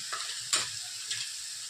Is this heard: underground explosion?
no